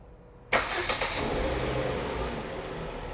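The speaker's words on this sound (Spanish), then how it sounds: "ahí el motor ya está funcionando" A Volvo S40 engine cranks and catches with a sudden loud start, briefly flares in revs, then settles into a steady, close idle around 740 rpm.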